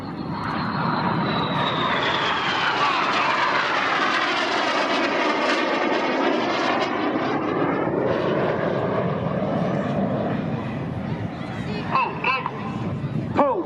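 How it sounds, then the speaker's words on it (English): Red Arrows jets at the Southport Air Show performing a 360-degree aileron roll in a synchro pass, a loud sustained jet roar with a sweeping Doppler whine that rises and falls as the aircraft pass overhead, continuous throughout. "Each aircraft will conduct a 360-degree aileron roll."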